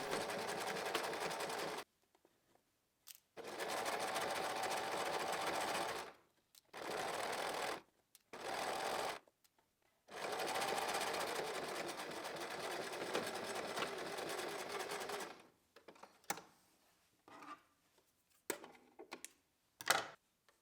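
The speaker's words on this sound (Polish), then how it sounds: "Z sukcesem zszyliśmy 2 kawałki materiału w linii prostej z równym zapasem na szew." A sewing machine joins two pieces of fabric in a straight seam, running in several long, steady bursts separated by short pauses, then a few brief stitches and clicks toward the end, with no talking.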